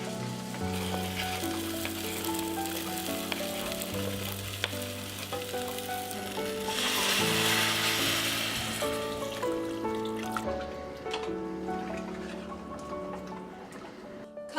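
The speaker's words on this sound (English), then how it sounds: "Now that our garlic and green onions are crisp, we're going to add in our potatoes for another minute." Crisp garlic and green onions fry in a pan as potatoes are added. A steady sizzle swells in the middle, partly under prominent background music.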